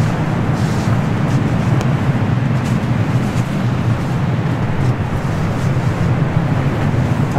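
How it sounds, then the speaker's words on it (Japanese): Strong gusting wind at a campsite during a storm, a dense continuous roar buffeting the microphone for the whole stretch, loud and close with no talk. "もう風は相当強風で"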